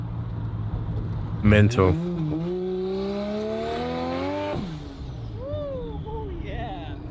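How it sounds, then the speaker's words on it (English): A Ford Fox-body car fitted with a Barra engine, its exhaust exiting out the side, rumbles and revs with rising engine tones over a steady idle, while people talk and exclaim close by. "Exhaust kicking right out the side."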